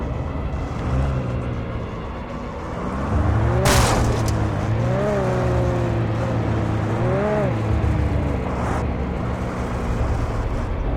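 Car engine in Alan Wake Remastered, a steady motor hum that rises and falls as the vehicle accelerates and shifts, driving close by with no voices.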